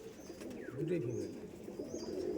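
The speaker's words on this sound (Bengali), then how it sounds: "পায়রা খুব অ্যাগ্রেসিভ তো পায়রা ধরে রাখা যাচ্ছে না" A female Madras pigeon coos softly in a low, rolling burble, with faint chirps of other birds in the background.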